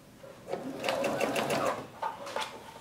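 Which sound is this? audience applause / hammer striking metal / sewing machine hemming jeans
sewing machine hemming jeans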